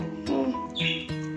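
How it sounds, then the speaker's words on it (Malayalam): Lovebirds give a few short, bright chirps close by in a pet shop, with a brief high squeaky call in the middle, over a faint background hum. "ഇതൊക്കെ ശരിക്കും ലവ് ബേർഡ്സ് ആണ്"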